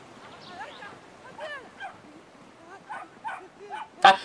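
A small dog yips and barks in short, high bursts scattered across the scene, fairly close, with a sharper loud yelp near the end.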